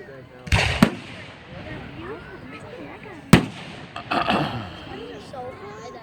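Outdoor fireworks launched and bursting, with a few sharp loud bangs and crackling between them, heard at a moderate distance while people talk in the background.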